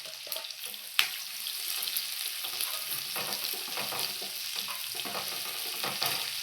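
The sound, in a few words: onions added to hot oil with garlic, frying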